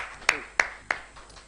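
Three sparse, evenly spaced hand claps from a small audience at a live-streamed panel discussion, faint and brief against a quiet room.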